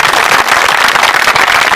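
A church congregation claps loudly through a night meeting, a dense, continuous wash of applause with no voices standing out.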